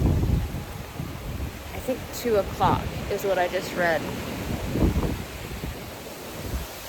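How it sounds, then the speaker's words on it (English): Hurricane Milton's wind gusts through the trees, a steady broadband roar that swells and fades under a person talking nearby. "as you can hear, the gusts of the trees is so loud"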